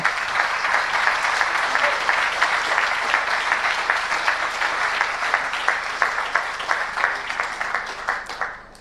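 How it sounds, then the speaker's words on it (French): An audience at a conference opening event applauds warmly, a dense, sustained round of clapping from a large crowd that thins out toward the end. "Je ne sais pas où est Thierry Marx, mais je voudrais qu'on l'applaudisse."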